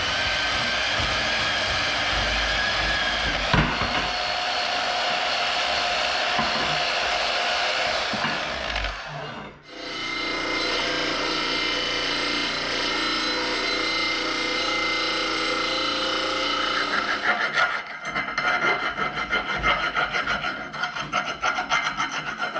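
A steel link tube for an FJ Cruiser rear three-link suspension is cut to length, a long, loud, continuous rasping cut heard up close. It pauses briefly midway, then resumes and turns rougher toward the end.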